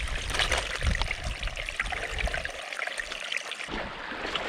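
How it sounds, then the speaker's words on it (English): Water burbling and trickling from a mountain stream near Stickle Tarn and Pavey Ark as a bottle is filled, close and uneven with brief splashy pulses over a few seconds. "let's get this water filled up"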